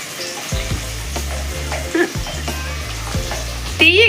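Onions frying and being stirred in a pan for a tuna fish curry, a steady sizzle broken by several scraping stirs that come in bursts, close and fairly loud.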